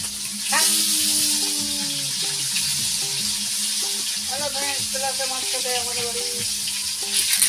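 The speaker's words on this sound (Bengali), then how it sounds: "দেখতে পাচ্ছ আমি মাছ ভাজছি" Fish frying in a pan in a home kitchen, a steady bright sizzle and hiss throughout, with intermittent tonal clinks and faint voice-like sounds underneath.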